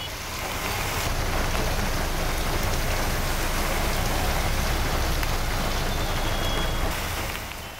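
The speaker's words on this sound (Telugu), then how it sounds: "ఇప్పటికే నగరంలో వర్షం దంచుకొడుతోంది." Heavy rain pours over Hyderabad city as a dense, constant roar of drops hitting surfaces, loud and unbroken, with faint traffic rumble underneath.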